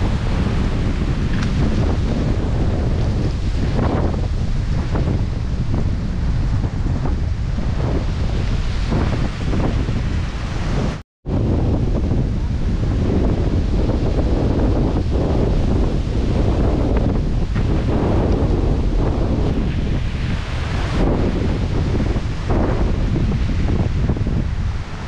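Stormy typhoon wind roars steadily over deep floodwater in rice paddies, a loud, continuous buffeting rush with gusty swells and a brief dropout near the middle, no voices.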